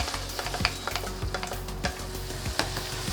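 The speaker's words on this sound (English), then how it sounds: "we're going to saute the mushroom and the onion" Mushroom and onion sauté in melted butter with salt and pepper, a lively close sizzle punctuated by quick, repeated scraping stir strokes in the pan.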